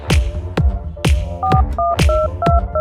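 Telephone call tones pulse in a steady repeating cycle, loud and close, with a throbbing low hum beneath and paired dial-style beeps in the second half; no one speaks.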